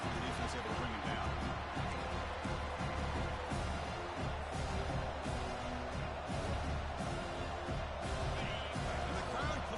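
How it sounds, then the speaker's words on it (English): A football stadium crowd roars in a continuous, broad wash of cheering and shouting that swells slightly in places, with a commentator talking over the top throughout. "And the crowd coming to life here, trying to help this defense down in the red zone."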